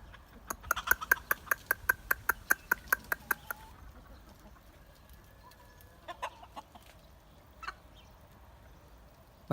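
Free-range village chickens foraging outdoors, a rapid run of repeated clucks and a rising cackle early on, then quieter scattered clucks and pecking sounds, moderately close with no talk.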